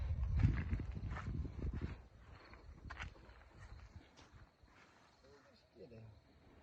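A mare's hooves clop slowly and unevenly on a hard surface nearby while people talk over them.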